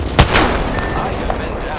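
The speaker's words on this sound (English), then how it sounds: "The enemies are shooting at me." Gunfire cracks in an Apex Legends match as enemies shoot at the player, with two sharp close reports early on and lighter shots trailing off behind a hissy game ambience.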